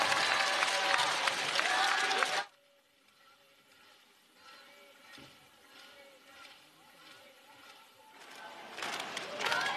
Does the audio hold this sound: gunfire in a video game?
no